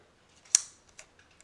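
The shutter-arming lever on a Yashica-A twin-lens reflex camera is flicked, giving one sharp metallic click followed by a few faint mechanical ticks, close and isolated.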